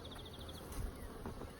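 Honey bees buzz around an open hive being worked by a beekeeper, a faint, steady insect hum with a few brief louder passes close by.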